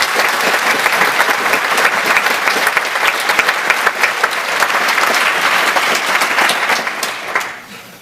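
Audience at a live disclosure-themed lecture giving a long, loud round of applause, dense and steady, easing off near the end.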